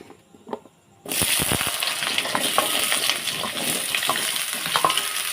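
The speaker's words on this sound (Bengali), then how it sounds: "কেটে রাখা আলুগুলো দিয়ে দেব" Cut potatoes drop into hot mustard oil seasoned with panch phoron, setting off a loud, steady sizzle with a few stirring clicks; near and continuous, no talking.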